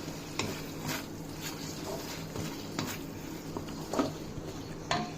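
Vegetables for chicken hakka noodles stir-fried in a wok, a quiet sizzle broken by repeated scraping and clanks of a utensil against the pan at an uneven rhythm.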